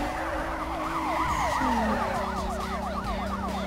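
Police car sirens wail in the racing game NFS Most Wanted 2005, several overlapping sweeping tones rising and falling continuously at moderate volume over a low engine rumble, with no talking.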